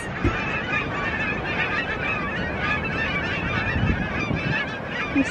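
A flock of geese honks continuously, many overlapping calls forming a dense, busy chorus.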